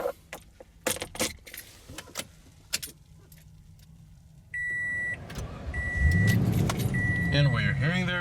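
A 2017 Toyota Tundra SR5 TRD Off Road with a 5.7 liter V8: keys jangle in the ignition, a chime beeps, then the engine cranks and settles into a low rumbling idle close by.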